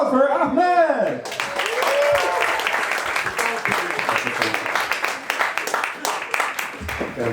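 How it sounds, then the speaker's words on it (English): An open mic audience breaks into applause for a performer named Ahmed, a steady wash of clapping that follows a brief spoken introduction and continues with voices and cheers mixed in. "Warm round of applause for Ahmed!"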